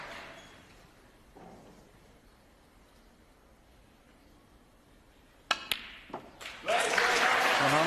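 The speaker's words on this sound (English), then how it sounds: "And he is being cheered on to the rafters." A snooker crowd is quiet at first, then bursts into loud, sustained applause from a large audience in the last couple of seconds.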